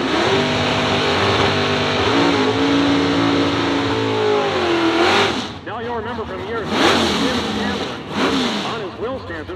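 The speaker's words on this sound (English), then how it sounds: "And he has a 1969 Chevrolet C10 pickup truck, 565 cubic inches, a big block Chevy under the hood for Tim Shamblin" A 1969 Chevrolet C10 pickup with a 565 cubic inch big block Chevy V8 on a drag strip, roaring loud and close as it winds up through the gears, then dropping off and revving again with a crowd audible beneath.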